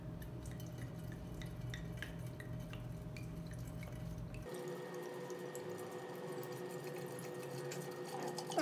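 Cheongju rice wine, left over from a holiday ancestral rite, is poured over cut fruit for sangria. It makes a steady, close liquid splash and trickle that carries on throughout, and the sound becomes brighter and thinner partway through. Nobody speaks.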